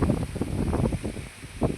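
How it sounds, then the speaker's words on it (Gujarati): Strong gusting wind storm blowing across a farm field, a loud, continuous broadband roar with buffeting surges and rustling, swelling again near the end, no talk. "જુઓ મિત્રો પવનનો અવાજ તો જુઓ મિત્રો"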